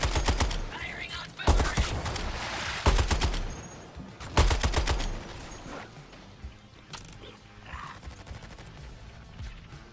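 Rapid bursts of gunfire in the video game Suicide Squad: Kill the Justice League, several loud, sharp volleys in quick succession over the first half, then fading into quieter mechanical clatter and background game noise.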